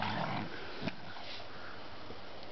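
Two rescue dogs romping roughly together in snow, a brief burst of scuffling and sniffing up close, mostly quiet after the first second.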